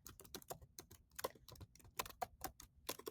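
Rapid keystrokes on a computer keyboard, a close, uneven run of sharp clicks and taps with brief pauses between bursts, no voices.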